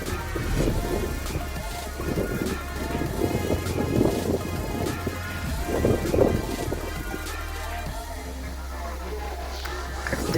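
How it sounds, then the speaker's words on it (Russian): A heavy summer downpour with thunder and storm winds tossing treetops outdoors, rain roaring steadily throughout with low rumbling swells, loud and continuous, while a person speaks intermittently over it. "Совершенно не прошел ливень."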